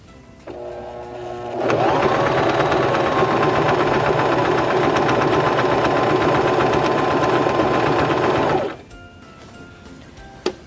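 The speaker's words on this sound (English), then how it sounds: "So now we can press on our foot control and sew the left side of our buttonhole up into the top line of our I." A Singer Start 1304 sewing machine stitches the left side of a buttonhole, its motor whirring steadily and loudly for about seven seconds before stopping, with a faint click near the end.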